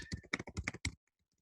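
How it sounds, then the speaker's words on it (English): Quick bursts of keystrokes on a computer keyboard, close and crisp, about a second of typing followed by silence. "So when I'm typing a chat, I can either send it to everyone"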